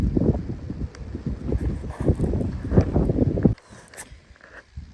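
Strong gusts of wind batter the microphone in an open field, a loud rumbling buffeting that surges and eases unevenly, then drops abruptly to a softer, steadier breeze for the last second or so.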